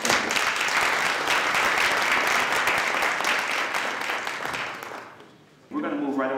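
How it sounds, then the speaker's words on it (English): An audience at the opening of a minority male mentoring program breaks into loud, dense applause that holds for about five seconds, then fades away, and a speaker's voice takes over at the end. "We could just give everyone on the program an applause."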